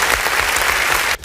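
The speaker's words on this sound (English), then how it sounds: "give him a round of applause" Audience clapping at a comedy show, a loud dense burst of applause that runs steadily and then cuts off abruptly near the end.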